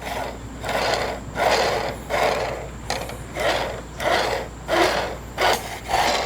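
Archery broadheads spun on arrows make a repeated rhythmic whirring rasp, about ten even pulses of close mechanical spinning with a faint steady hum underneath.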